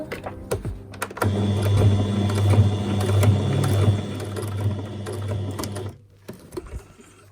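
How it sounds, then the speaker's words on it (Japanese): A sewing machine double-stitches the body of an adult cafe apron, whirring in a loud, steady run for several seconds after a few soft handling sounds, then stopping. "胴体のところはまた二重にステッチしていきますよ"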